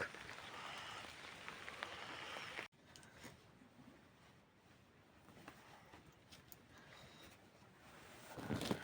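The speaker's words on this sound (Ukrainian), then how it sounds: "Так вже хороший дощ." Steady rain pattering on a surface, faint and continuous, with scattered drops and a soft hiss throughout.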